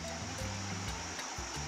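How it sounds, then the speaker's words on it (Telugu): Water flowing through a rocky stream at Aluru Kona, a steady broad rush with faint splashing, near and continuous. "లొకేషన్ చూడండి, వాటర్ అంతా పారుతుంటుంది ఇట్లా"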